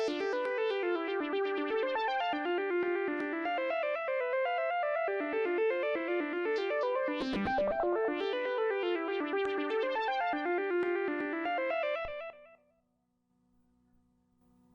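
A Korg Monotribe synth plays a sequenced pattern while its LFO intensity and rate are modulated, giving a buzzy, wobbling, distorted tone that shifts in character, with a brief sweep near the middle before stopping abruptly and leaving a faint hum.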